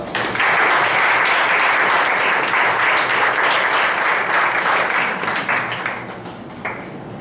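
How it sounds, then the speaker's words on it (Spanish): Audience at a summer music recital applauds after a Scherzo performance, a steady wash of clapping that holds evenly for several seconds before tapering off. "Vamos a dar un aplauso"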